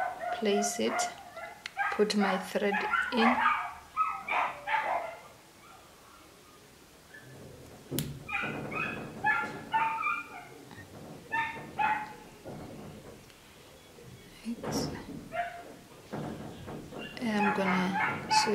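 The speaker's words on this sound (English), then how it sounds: "Sorry about the dogs. Those are my neighbor's dogs." Neighbouring dogs bark in short bursts from off to the side while a person talks close by indoors during a hair-extension session.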